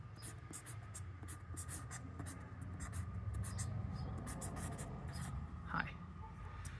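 A new black marker is drawn across a surface in short, quick strokes. It gives faint, close, scratchy squeaks and taps in an irregular rhythm.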